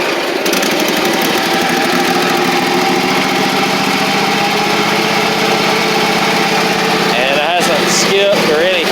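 Husqvarna Z254 zero-turn mower with a fuel blockage, its engine cranking to life and then running at a loud, steady idle close by, with a brief revving change near the end.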